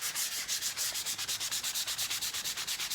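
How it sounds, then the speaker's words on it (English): Rhythmic back-and-forth sanding of a stained wooden console table, with steady repeated strokes of even loudness heard close up and alone. "if I'm a little bit random in my approach here to sanding"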